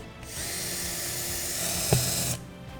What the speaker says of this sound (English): And I want you to drill a hole there.